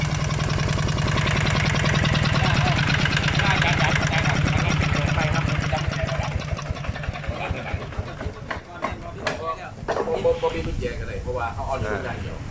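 A Magnum RT 155 Plus engine idles nearby with a loud, steady rapid chugging that continues throughout, becoming slightly rougher and uneven toward the end.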